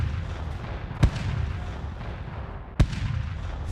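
Two heavy artillery shots from a Krieg quad launcher in a Warhammer 40k animated battle, each a sharp thump followed by a dense rumbling roar.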